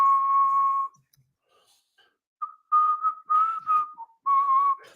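Close, clear whistling of a melody: one long held note, a pause, then a run of short lively phrases.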